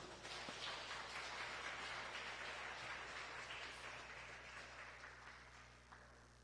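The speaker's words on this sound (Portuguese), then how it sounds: "receber o servo de Deus com uma gloriosa salva de palmas para Jesus" A church congregation gives a round of applause, a dense steady wash of clapping that holds and then slowly fades, fairly distant and alone without talk.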